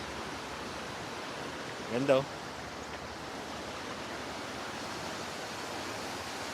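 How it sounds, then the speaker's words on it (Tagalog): The river beneath the old Malagonlong stone bridge in Tayabas City, Philippines, rushes as a steady, even wash of flowing water, constant throughout, with a brief spoken exclamation partway through. "narinig mo yung agos ah, ng ilog"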